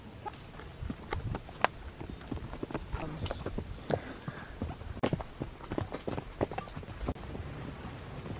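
Irregular hoof clops of a horse walking at a slow pace, fairly quiet, with a faint steady hiss and occasional soft clucks in the background.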